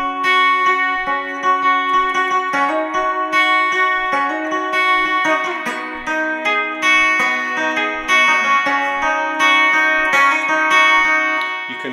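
Slow, clean guitar part from a song, played with a capo as a steady series of picked chords and arpeggiated notes, close and unaccompanied, with no talking.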